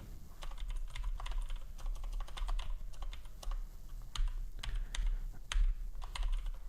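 Rapid, uneven typing on a Thunderbolt computer keyboard with a sticky E key, producing close, crisp key clicks in quick bursts with brief pauses and no talking.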